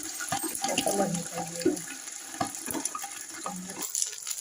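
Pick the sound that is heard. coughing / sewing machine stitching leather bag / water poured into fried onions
water poured into fried onions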